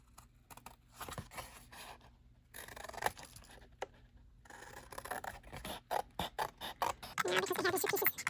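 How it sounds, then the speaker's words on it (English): Scissors snip through paper card for a gingerbread card craft, a run of crisp cutting strokes and small scratchy scrapes of paper that quicken and grow louder toward the end, with no talking. "So I'm going to cut right along this pink."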